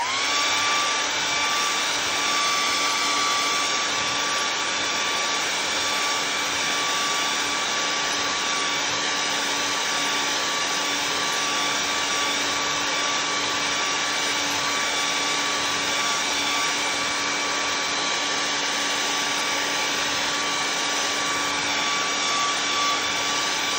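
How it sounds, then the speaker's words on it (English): A hair dryer blows steadily over painted buffalo plaid, a constant whooshing whine with a fixed motor tone running loud and unbroken throughout, no voices. "I'm gonna blow dry and see what happens."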